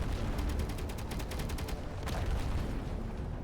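In Space Engineers, a station's anti-meteor turrets fire at incoming meteors: a rapid burst of automatic gunfire rattles steadily for about two seconds, then a few more shots crack out over a dense, rumbling background.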